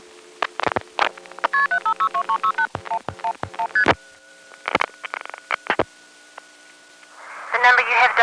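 Tones and pulses from an NX1 crossbar telephone exchange in 1974: quick runs of steady dual-tone digit beeps, sharp clicks and pulses, then a long held tone and a burst of hiss near the end, with a faint hum underneath.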